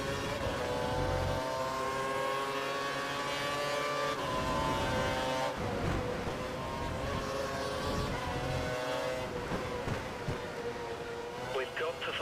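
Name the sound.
F1 race car engine in video game F1 2012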